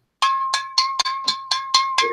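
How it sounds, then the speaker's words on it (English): Chimes struck eight times in an even, quick rhythm, each a bright metallic clank with a clear ringing tone, close and loud, sounding somewhat like a cowbell. "I'm about to ring the chimes."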